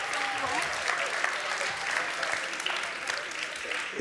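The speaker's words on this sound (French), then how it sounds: "On peut les applaudir encore très fort." A crowd at an award ceremony applauds steadily for the full few seconds, a dense, even patter of many hands clapping at once.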